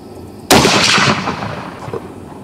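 One sharp, loud rifle shot from a custom 7mm Rem SAUM loaded with Berger bullets, fitted with a bayonet and fired over a chronograph, followed by a short rolling echo that fades over about two seconds.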